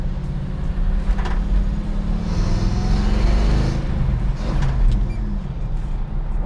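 A 1979 International Scout truck on a road test drive, with a steady low engine drone and road rumble that swells slightly mid-run, heard from inside the cab with no talking.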